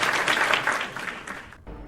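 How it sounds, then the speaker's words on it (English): Two podcast hosts clap for a guest, a short burst of close hand claps that thins out and stops near the end. "Everybody give Craig a round of applause for being on the podcast."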